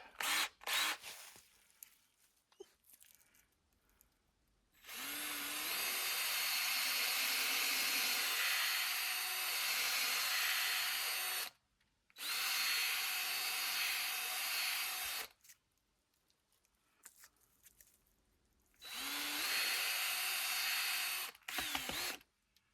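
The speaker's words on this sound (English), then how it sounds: "we use a smaller drill bit." A drill with a small bit whirs loudly into a wet birch tree for sap tapping, in three long bursts separated by pauses, with faint clicks and handling noises in the quiet gaps.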